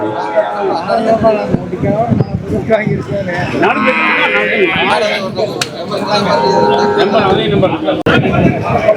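Buffaloes and other cattle at a busy village cattle market moo and low repeatedly, loud and near. Several calls overlap. Voices talk throughout in the crowded background.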